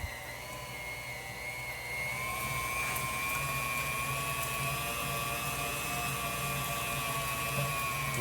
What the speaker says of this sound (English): we finished grinding up the meat